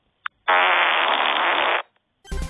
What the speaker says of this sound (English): Fart Machine Mode gives you the power of producing the sound of every possible sphincter siren known to ear and nose, such as the quick fart, the rigid fart